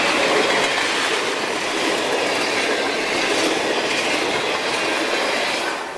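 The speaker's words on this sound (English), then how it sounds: "The bad thing about coming this way is sometimes you get trains." A train rolls past at a railroad crossing after a blizzard, a loud, steady rush of railcars with clickety-clack wheel noise held close for the whole stretch before easing slightly at the end.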